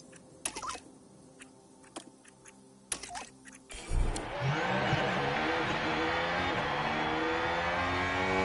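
F1 race cars in a McLaren career video game surge off the line at a race start: a few clicks and beeps, then a loud, rising roar of engines that builds and holds as the pack accelerates.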